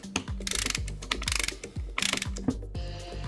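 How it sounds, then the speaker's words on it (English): Ratcheting spindle of a Festool OF 1400 router cranked with a spanner, close and crisp, repeated rapid clicking bursts in several strokes with short pauses between, no talking. "the spindle has a ratchet, which means that you don't have to take the spanner off the nut"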